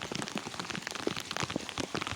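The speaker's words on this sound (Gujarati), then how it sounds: "આખા ગુજરાતમાં બધે વરસાદ ખૂબ જ વરસી રહ્યો છે" Heavy monsoon rain pours steadily in a Gujarat village, with dense drops pattering on surfaces close by; no voices.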